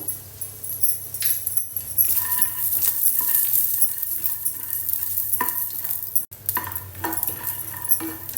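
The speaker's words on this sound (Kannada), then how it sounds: "ಸೇಮ್ ಮೆಸರ್ಮೆಂಟ್ನಲ್ಲೇ ಒಂದು ಕಪ್ಪು ಕಡಲೆ ಬೀಜನ ನೀವು ಹುರ್ಕೊಳ್ಳಿ" Peanuts roasting in a little oil in a pan are stirred with a utensil, giving repeated scraping and clinking strokes over a soft sizzle, close and steady with a brief dropout near the end.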